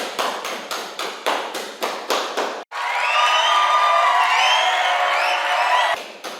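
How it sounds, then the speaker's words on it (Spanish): A studio audience on a local television programme claps in a rhythmic, evenly spaced beat for a few seconds, then breaks into loud, continuous cheering and applause that fills the rest of the clip before cutting off abruptly. "Aplauso para Harry."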